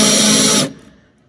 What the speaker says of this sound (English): Now we only need to drill through the first sheet of metal.